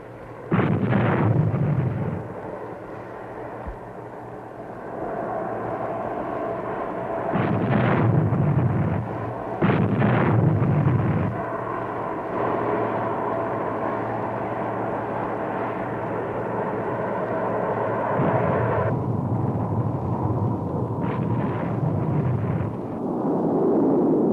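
Heavy artillery fire in 1968 combat with Marines, heard as repeated deep booming blasts over a constant rumbling roar, with bursts clustered at intervals.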